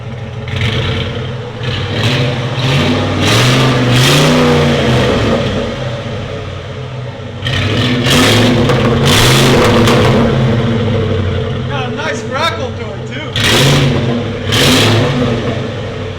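A 2007 Saleen S331 SC with a supercharged 5.4L V8 and Black Widow exhaust, revved hard several times in loud, rising and falling surges with a rumbling idle between, recorded close outside.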